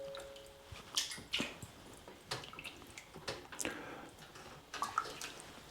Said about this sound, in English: I will take them out and put them into the cold water.